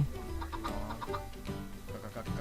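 Chicken clucking in Minecraft with the ARK Survival Craft mod, a series of short game-sound clucks over a dense, steady layer of background game music and noise.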